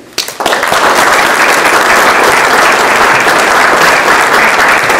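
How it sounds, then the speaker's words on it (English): Audience applause breaks out suddenly and carries on as loud, dense, sustained clapping from a crowd at a local candidates' meeting. "Round of applause for Mary Reister and our next group of candi"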